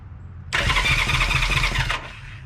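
A Honda CB350 motorcycle engine cranks and starts in a loud, rough burst lasting about a second and a half, then cuts back to a low background rumble.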